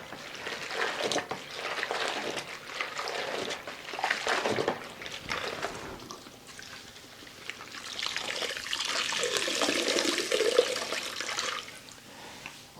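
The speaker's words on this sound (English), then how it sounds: "I get a little rowdy with the rinsing of the mop." A mop is sloshed and rinsed vigorously in a bucket of water while cleaning a floor with 1983 Spic and Span Pine, giving rough splashing and dribbling in uneven bursts, with a louder churning stretch near the end.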